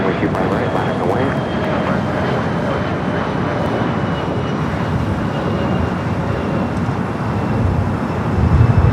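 Alaska Airlines airliner taking off on runway 25 right at LAX, a loud continuous broadband engine roar holding steady and swelling slightly at the end, with radio talk mixed in.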